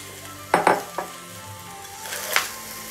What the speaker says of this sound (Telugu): ఇప్పుడు ఈ మొత్తం కలిపి దీంట్లో ఈ రైస్ మొత్తం వేసేసుకోవాలి